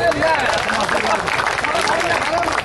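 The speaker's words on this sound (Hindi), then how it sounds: "बहुत कम तालियां हैं, इतनी ताली में काम नहीं चलेगा।" Scattered clapping from an audience at a mushaira poetry recital in Raniganj, Pratapgarh, steady across the moment with crowd murmur and voices mixed in, the applause fairly thin rather than a full ovation.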